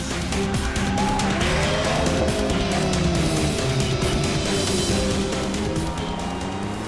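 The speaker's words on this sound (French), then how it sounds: "Testons maintenant les aptitudes de la voiture dans les courbes" An Alfa Romeo 4C sports car corners hard on a track with loud, sustained tire squeal over a steady engine drone, the pitch of the screech wavering as the car works through the curve.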